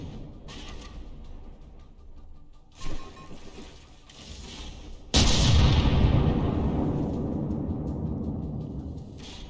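Battleship guns fire in the naval combat game From The Depths, one sudden heavy blast that rolls into a long, loud rumble fading slowly, after a softer muffled thump and low background battle noise.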